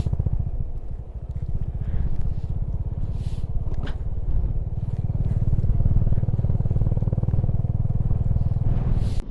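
A motorcycle ridden slowly along a sandy road in Ladakh on the route from Hunder to Pangong, its engine a steady low rumble throughout with rough, jittery texture and wind noise, no speech.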